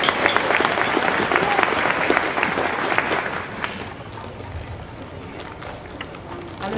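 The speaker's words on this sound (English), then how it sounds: "Let's give them another round of applause." Audience applause after a school band and orchestra's spring concert, a dense, steady clatter of many hands that is loud at first, then thins and softens partway through.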